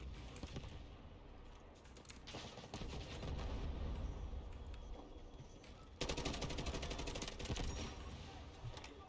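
Dense bursts of automatic gunfire crackle through a video game firefight, with steady rattling shots under faint voices and a louder burst near the end.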